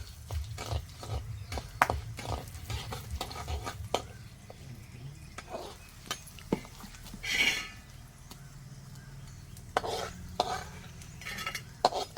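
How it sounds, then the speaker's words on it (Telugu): Cumin, coriander seeds, asafoetida and chana dal roasting in a little oil in a pan, with a soft low crackle beneath frequent spoon scrapes and clinks of metal stirring, close and fairly quiet. "జీలకర్ర ధనియాలు ఇంగవ పచ్చనపప్పు ఇవి వేయిస్తానండి"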